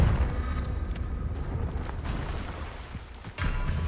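Magical Confringo blast from the game Hogwarts Legacy, a booming burst that fades into a rumbling decay, followed by a second sharp impact near the end.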